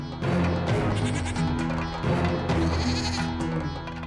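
Goats bleating on a sacred hill: several wavering, nasal bleats overlap in a dense, continuous chorus that swells at about 0.2 and 2 seconds and carries close and loud throughout.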